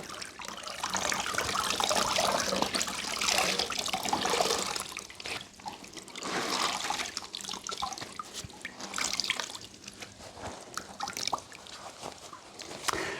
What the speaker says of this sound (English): a squeeze to get the water out.